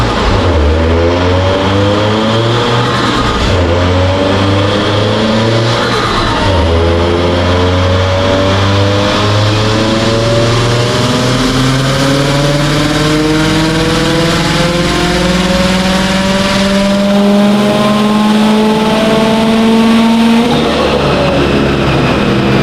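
A turbocharged car engine on a dyno at 18 psi boost, with added wastegate duty, revs up through a long, loud, rising pull, dropping back briefly before climbing again to a high-pitched roar and then falling off at the end.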